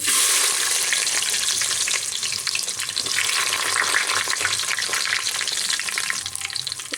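Onions frying in oil with whole spices for chicken dum biryani, a dense, loud, steady crackling sizzle close up, with light stirring and no speech.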